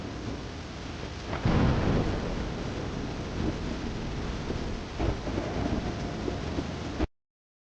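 Heavy rain pours steadily in a cartoon with a thunder rumble building near the start, more distant rumbles mid-way, and wind noise throughout before the sound cuts off abruptly.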